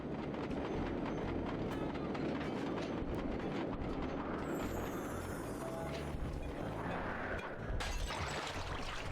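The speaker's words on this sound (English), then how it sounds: "I really liked riding the trains in this map." Train ride in the video game Sly 2: Band of Thieves, a steady dense rumble and clatter of rolling rail cars that runs continuously and loud throughout, with a brief rising whoosh near the end.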